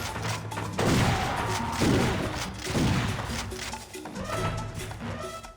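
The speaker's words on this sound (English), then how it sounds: "You can shoot multiple shot shells in one big blast" A shotgun fires several shells in one big blast in the video game Turok Evolution, producing repeated heavy booming shots that roll into each other over a dense, loud background.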